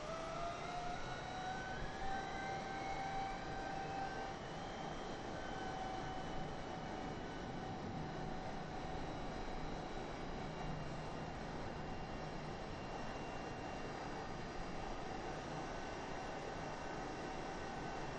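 Aircraft engine in a video game throttling up, a steady broadband roar with a rising whine in the first few seconds, then a sustained even drone, no talk.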